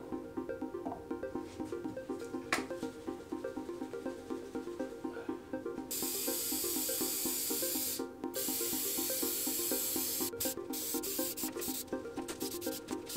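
Finish is rubbed by hand onto a wooden keyboard wrist rest for a second coat: quiet, steady rhythmic rubbing strokes close up, becoming a brighter, hissier swishing partway through, with a faint background hum.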